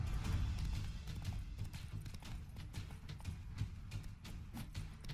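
Hooves of Roach, the horse in The Witcher 3 video game, clip-clop at a steady galloping rhythm throughout, fairly close and continuous, with a brief whinny-like touch and no talk.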